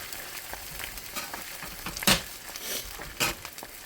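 Spam frying in a cast iron pan makes a steady hissing sizzle, broken by a couple of sharper crackles and spatters as the slices are moved.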